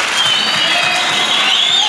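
A crowd applauds loudly and continuously, a dense and even wash of many hands clapping close by.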